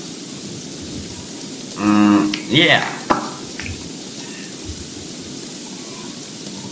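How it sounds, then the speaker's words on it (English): Steady rain hiss in the video game Don't Starve fills the scene, with a loud lowing animal call rising over it midway and a brief spoken word. "I need to get out of the rain."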